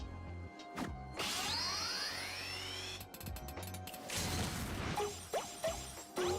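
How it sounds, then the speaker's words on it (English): Hammer strikes and clanging metallic crafting effects from the video game Final Fantasy XIV, several sharp impacts and ratcheting clatter over rising tonal effects, fairly loud and close with no talk. "Birgot, guide my hammer."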